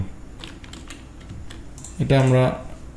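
Several quick, light keystrokes tap on a computer keyboard while text is entered in a Canva design, close and fairly soft, followed by a short voiced sound near the end.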